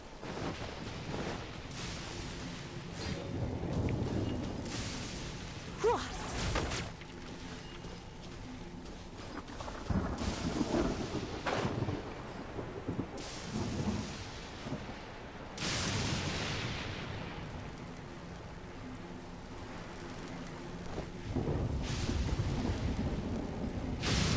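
Thunder rolls and cracks repeatedly through a lightning storm, with several deep rumbling bursts over a steady wash of rain, fairly distant and subdued.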